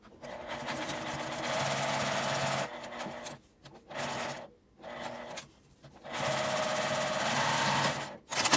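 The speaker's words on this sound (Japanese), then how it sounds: "まずタブから端ミシンをかけます" A sewing machine runs in long steady stitching bursts while topstitching along the edge of a fabric tab for a drawstring knapsack bag, with brief pauses between runs, close and clear.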